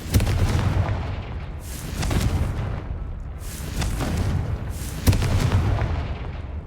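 Repeated Confringo blasting spells in Hogwarts Legacy, each a booming explosive burst with a hissing tail, about three blasts in steady succession, loud and close.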